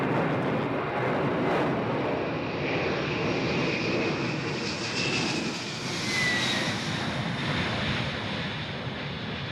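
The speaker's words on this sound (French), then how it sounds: "On a des avions qui viennent de Diegem." Propeller or jet airplanes flying over near Diegem, a steady loud engine roar that swells and fades across the whole stretch, with no voices.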